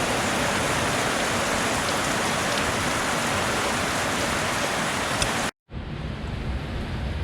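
Steady rain shower pouring outdoors during work on a 1964 Ford Galaxie's suspension, a dense even hiss that cuts off abruptly near the end, followed by a fainter, quieter rain ambience.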